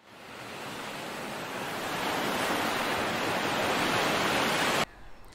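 Surf rolling steadily onto a UK shoreline, a broad continuous wash of breaking waves that swells slightly louder before cutting off near the end, with no voices.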